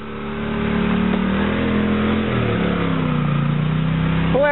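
Polaris ATV engine revving loudly and close during a club trail ride, a sustained rising and falling motor drone that holds for several seconds before a brief change at the end.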